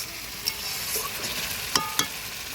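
Mutton curry is sautéed in a pan, with a soft, continuous sizzle and a few sharp clinks of a spoon against the pan, close and fairly quiet.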